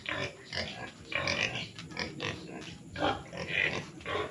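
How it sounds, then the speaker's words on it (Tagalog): Native pigs in a backyard piggery on a farm lot in Liliw, Laguna, grunting and snuffling close by in repeated irregular bursts over steady farmyard background noise, with no talking. "Ayan, may mga native na baboy pa dito sa alaga."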